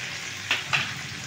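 Ginger and garlic frying in a pan for a Bengali aloo dum, a steady close sizzle broken by two quick stirring bursts.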